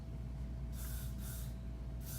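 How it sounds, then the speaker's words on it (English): Three short bursts from a can of soft finish hairspray hiss out close by onto hair, separated by brief pauses over a low steady hum. "I'm going to take my soft finish hairspray. We're gonna spray down the hair shaft"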